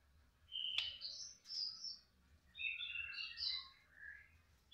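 A young male caged bird chirps and tweets in short bright bursts, fairly close, over a low steady background hum.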